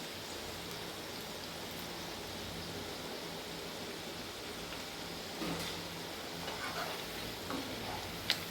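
Onion pakoda frying in hot oil, a steady dense sizzle with faint crackles that holds evenly throughout, no voices.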